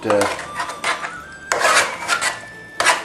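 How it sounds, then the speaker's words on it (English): A spoon stirs a fatty, browned dish around a pan, giving three bursts of harsh metallic scraping and rasping with short pauses between, close and loud with no voices. "I'll just give that a bit of a stir around."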